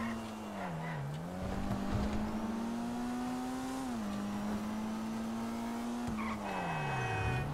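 A Toundra Panthere sports car in GTA Online sliding through corners, with a steady engine drone that dips and rises as the tyres squeal and skid, near and continuous.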